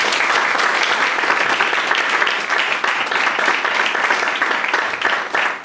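An audience applauding in a church for the Lord during a youth service, dense sustained clapping filling the room, loud and steady throughout without voices.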